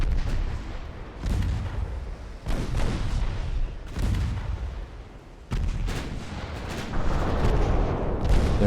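Battleships fire high-explosive shells in a naval combat game: heavy, booming salvos land every second or so, each with a rumbling tail, loud and close, with no talk.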